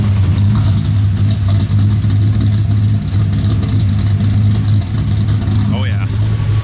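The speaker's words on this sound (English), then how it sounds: "so you guys can hear the idle" A loud, low, throaty Corvette ZR1 engine idling steadily nearby with a choppy rumble, a brief faint higher sound near the end.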